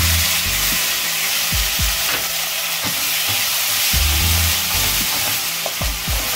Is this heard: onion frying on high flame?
yes